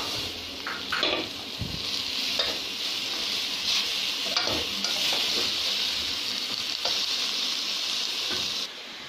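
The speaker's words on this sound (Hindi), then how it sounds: "अब इसमें मैं पालक डालूंगी और टमाटर डालूंगी" Spinach and tomato sizzle steadily in a hot pan, a constant hiss broken by scattered scrapes and stirs, fairly close and without talk.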